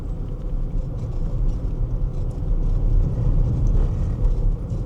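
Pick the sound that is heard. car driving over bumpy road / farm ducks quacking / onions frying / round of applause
car driving over bumpy road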